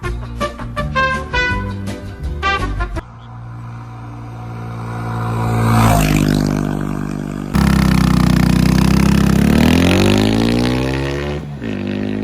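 A Honda Monkey motorcycle fitted with a Chimera short ram intake revs up and settles, its engine note rising and falling up close, loud and unaccompanied by talk.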